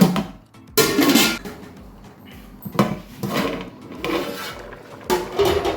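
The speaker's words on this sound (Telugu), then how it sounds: "దీనికి మూత పెట్టేస్తాను" A metal lid goes onto a pot of mutton biryani with several loud scraping clanks and rattles spaced over a few seconds, close up, with quiet pauses in between.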